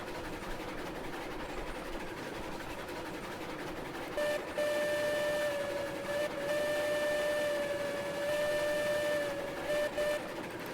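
Shay geared steam logging locomotive in the game Railroads Online runs with a steady chuffing rumble, then a sustained two-tone steam whistle sounds repeatedly from about four seconds onward, loud and close.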